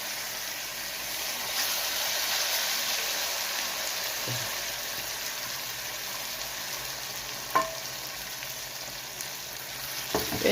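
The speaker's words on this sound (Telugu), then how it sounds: "వేసుకొని వెంటనే కొంచెం కలిపేసి ఈ టమాటా పేస్ట్ ఇది వేసేయాలి." Tomato paste with chili powder sizzling and frying in a pan for tomato chutney, a steady soft hiss with occasional faint scrapes and taps of stirring.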